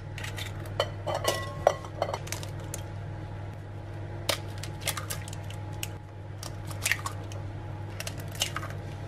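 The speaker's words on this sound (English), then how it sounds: "And now we're going to whisk in the six eggs." A wire whisk beats six eggs into a coconut flour bread batter in a bowl, giving a steady run of quick metallic clicks and scrapes against the bowl over a constant low hum, with no talking.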